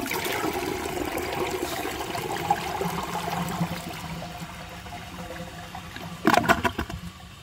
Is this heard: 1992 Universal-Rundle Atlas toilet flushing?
yes